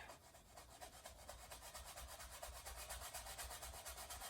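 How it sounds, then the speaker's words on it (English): A clean, dry paintbrush rubs steadily across wet oil paint on canvas in a soft, rhythmic scratchy brushing, faint and close with no voices. "take a clean dry brush and rub it away"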